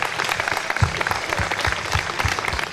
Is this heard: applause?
yes